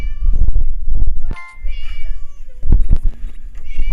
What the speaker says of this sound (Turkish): Ana kedi